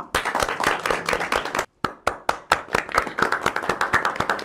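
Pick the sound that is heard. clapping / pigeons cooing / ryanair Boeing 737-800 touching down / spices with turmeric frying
clapping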